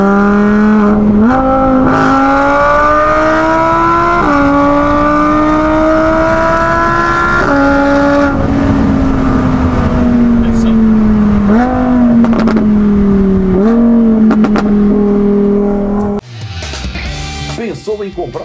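A car engine with aggressive tuning revs hard and close, climbing in pitch in repeated surges with brief drops between gears, then cuts off sharply near the end.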